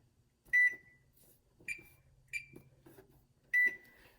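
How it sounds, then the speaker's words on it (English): Oven timer being set, four short electronic beeps at uneven intervals, close and fairly clear over a quiet kitchen background. "I'm gonna go ahead and set my timer for 15 minutes"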